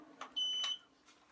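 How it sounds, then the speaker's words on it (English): An Exo Terra incubator gives a single short, faint electronic beep as it switches on, heard alone in a quiet room. "you heard the beep come on"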